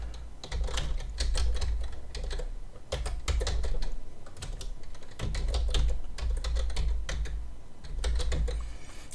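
A computer keyboard clatters with bursts of quick, crisp keystrokes, among them presses of the Tab key, close to the microphone with short pauses between runs of typing.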